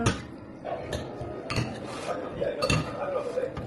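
Pilau ingredients being mixed in a pot, with a utensil clinking and scraping against the metal in irregular knocks, a few louder strikes standing out, close by.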